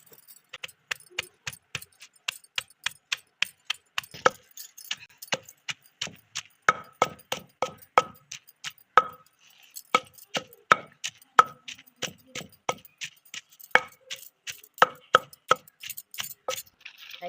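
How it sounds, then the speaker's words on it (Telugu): Onions being coarsely pounded by hand for minapa garelu, a steady run of sharp, close, dry thuds and crunches repeating rhythmically throughout, with no talking. "ఇట్లా ఉల్లిపాయలు మరి మెత్తగా కాకుండా పచ్చిగా నూరుకోవాలి."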